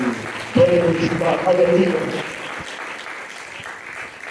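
A church congregation bursts into applause during a sermon, a burst of clapping that starts abruptly over a voice and then fades to a softer patter, with someone speaking.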